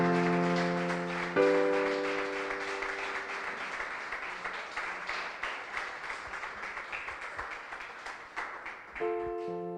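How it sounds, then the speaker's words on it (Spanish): A congregation gives a strong round of applause to the Lord during a Sunday morning church service, dense steady clapping filling the room, with sustained keyboard chords ringing at the start and returning near the end. "Dele ese aplauso fuerte al Señor"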